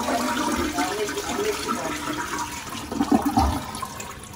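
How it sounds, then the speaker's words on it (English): Toilet flushing after a backed-up toilet was cleared, a loud continuous rush of water swirling and draining for several seconds, with a surge near the end. "let's flush it one more time."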